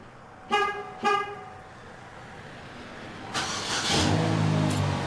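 Two short car horn toots from a remote start, then the car's engine starts up and settles into a steady idle close by.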